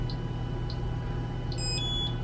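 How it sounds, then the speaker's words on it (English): A sous vide cooker heating New York steaks gives a few short, faint electronic beeps as its timer is set, over a steady background hum. "So now we have a timer set."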